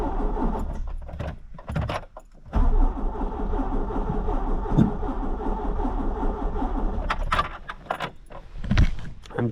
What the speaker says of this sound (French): On va la démarrer puis on va voir un petit peu si elle démarre.